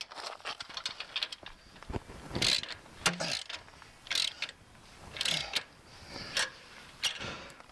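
A ratchet turns bolts snug on a broken trailer jack, giving close, irregular bursts of clicking ratchet strokes separated by short pauses, with no talking.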